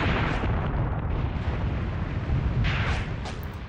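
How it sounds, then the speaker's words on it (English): Dense, continuous rumbling artillery barrage in the Graviteam Tactics: Mius Front war game, heard around a strong point objective, with overlapping booms and bursts rolling together loudly for the whole stretch. "the first action is an artillery barrage"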